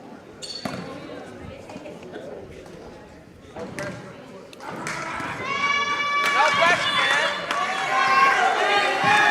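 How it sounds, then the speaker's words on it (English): Crowd noise at a high school basketball game during late-game free throws, a few sharp squeaks and bounces, then cheering and whistling swelling loudly, with an announcer talking over it. "Crowd gets into it"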